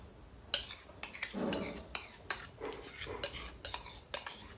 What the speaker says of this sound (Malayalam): ഇതാണ് അരവണ പായസം. നല്ലതുപോലെ ഒന്ന് ഇളക്കി കൊടുക്കണം.